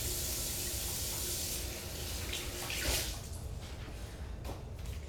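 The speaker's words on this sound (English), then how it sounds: "I gotta wash my hands before I touch that" Tap water runs steadily in a kitchen as hands are washed beneath it, with a broad rushing splash that changes a little as the hands move through the stream.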